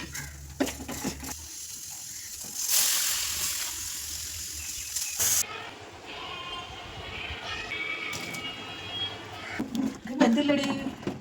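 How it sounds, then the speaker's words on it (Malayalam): Water splashes and pours into a pot of cooking tapioca curry for a few seconds, followed by quieter clattering and a person talking near the end. "എന്തായാലും വെള്ളം ഒഴിക്കാം"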